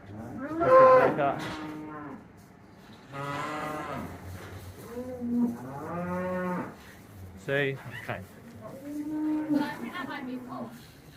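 A cow moos repeatedly inside a calving shed on a farm, several long, loud, close lowing calls spread across the clip, with a brief spoken remark heard between them.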